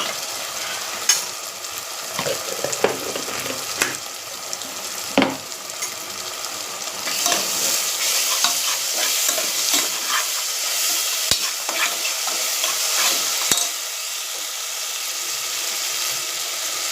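Onions with ginger-garlic paste fry and sizzle in a pan, a steady loud hiss broken by scraping stirs and clinks of a spoon, close up with no talking.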